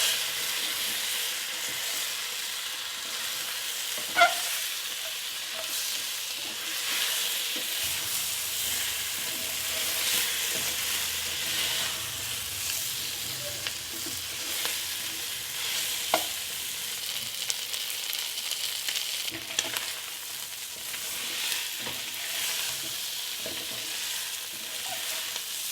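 A pan of spices and salt with cumin and turmeric fries with a constant hiss and crackle, with occasional clinks and scrapes of stirring over a long stretch, close and steady with no talk.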